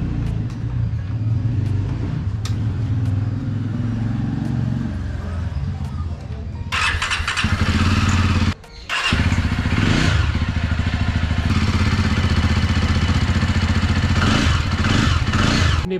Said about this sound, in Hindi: तो आज कई दिनों बाद मैं अपनी बाइक स्टार्ट करने जा रहा हूँ।